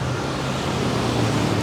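Steady road traffic noise in Bali, a continuous broadband wash of passing cars and motor vehicles with a low engine hum, moderately loud with no talk.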